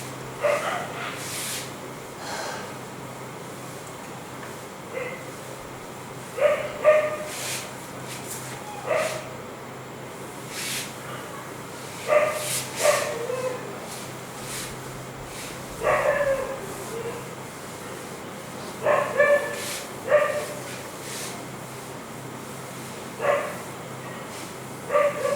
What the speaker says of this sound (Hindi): क्या सीन है, कुत्ता भौंकता है,